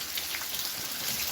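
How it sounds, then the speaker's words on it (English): Steady rain patters down outdoors in a steady, even hiss of many drops striking surfaces, close and moderately loud, with no voices. "it started to rain"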